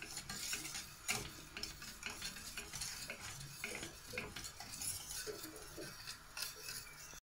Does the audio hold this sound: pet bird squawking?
no